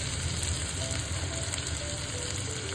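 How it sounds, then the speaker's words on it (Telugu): Onions frying with ginger garlic paste for paneer pulao make a dense, steady sizzle, close and even, with a faint low hum underneath and no voices. "ఇప్పుడు ఇందులో అల్లం వెల్లుల్లి పేస్ట్ వేసుకొని ఇంకొంచెం సేపు మగ్గనిద్దాం ఆనియన్స్ని"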